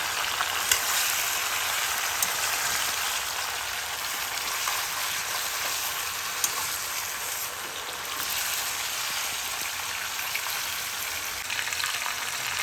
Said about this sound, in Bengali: এবার সব সবজিগুলো একটু হালকা করে ভেজে নেব এই ফোড়নের সাথে